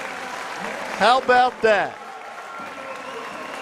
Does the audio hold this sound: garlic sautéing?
no